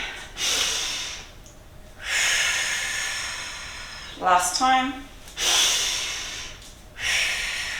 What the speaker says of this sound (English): We're just going to do 3 deep breaths.